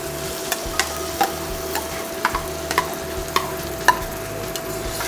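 Hot dal tadka tempering of spices sizzling in oil as it is stirred into cooked dal, a steady close frying hiss punctuated by sharp spoon scrapes and clinks against the pot.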